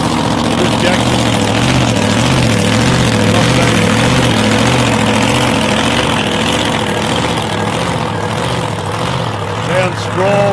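A 1967 Mustang drag car with a 525 cubic inch big-block Chevy rumbles in a deep, loud, lumpy idle at a raceway, steady throughout with a voice talking over it.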